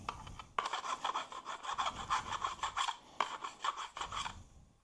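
A 1/4 inch thick aluminum bracket is deburred with quick, repeated rasping and scraping strokes in an uneven rhythm, close and fairly loud, with brief pauses between passes.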